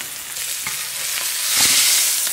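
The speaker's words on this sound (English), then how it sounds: "So we have this beautiful steak, we're gonna treat it with respect. We're just gonna let it sear 3 or 4 minutes" A steak sears in a hot pan with a loud, continuous sizzle. The crackle swells in the middle and scattered pops break through the hiss.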